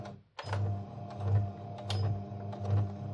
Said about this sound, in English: you just take 1/4 inch seam allowance and you just sew straight through it